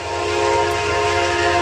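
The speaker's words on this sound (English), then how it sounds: "sorry about the train, I'll pause." A train passes right beside a workshop, its horn holding a loud steady multi-tone blast over the low rumble of rolling cars, with no talk.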